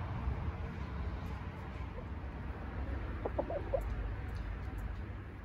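A chicken gives a short run of soft clucks partway through, faint and a little distant over a low outdoor background hiss.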